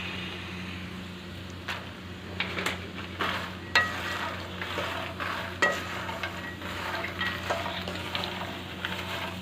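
Makhana being stirred with spice powder in a pan, giving a low, steady frying hiss broken by soft, regular scrapes and light rattles as the pieces are turned over.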